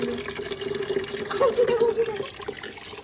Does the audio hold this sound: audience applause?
no